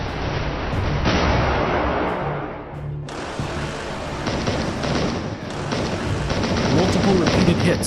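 Heavy explosions and blasts from repeated missile and glide-bomb strikes on an S-400 air-defense battery, a dense, continuous roar of rumbling booms at high volume throughout, with no clear pauses.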